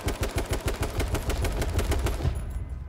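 Rapid automatic fire from an AK rifle in a video game, a dense, loud burst of evenly spaced shots rattling for more than two seconds before it cuts off, with no talk over it.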